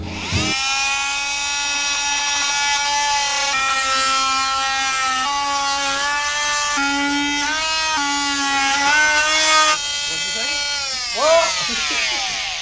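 A noisy multi-tool cuts in a shed, a loud, close, high-pitched whine that wavers in pitch for about ten seconds, cuts out, then gives one short final burst.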